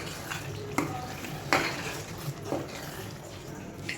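Onion paste for a red chilli and onion chutney gets stirred in a pan, a soft continuous sizzle under a few distinct scraping knocks of the utensil against the metal, close and moderately quiet.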